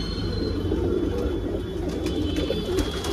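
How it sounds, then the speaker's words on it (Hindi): Punjabi pigeons coo softly and repeatedly close by, a low rolling murmur with a faint steady hum behind it and no talking. "अरे बेहतरीन क्वालिटी का कबूतर है।"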